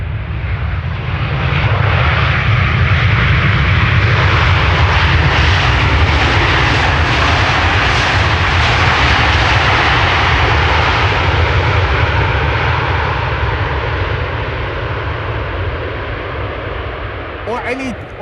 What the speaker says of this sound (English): The November 411 Delta X-Ray, 4-year-old airplane, first flight May 2021.